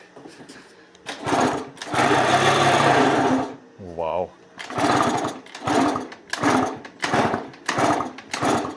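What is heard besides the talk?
scooter engine trying to start, worn bearings audible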